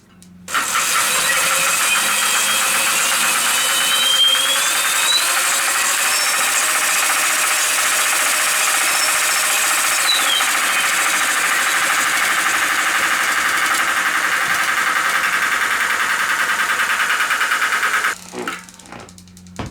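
The wheel of a homemade electric mountain bike spins at high speed with a bent spoke hitting, giving a steady high whirring, rubbing drone, loud and close, that cuts off near the end.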